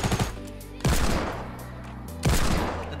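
Desert Eagle pistol shots in Fortnite: three loud, sharp bangs spaced about a second apart, each with a ringing tail between them, with no talk.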